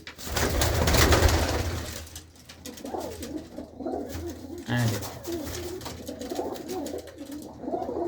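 Two female pigeons coo in repeated soft, throaty phrases close by, rising and falling over a low background murmur.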